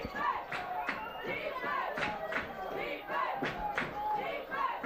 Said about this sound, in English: Crowd trying to get the defense pumped up.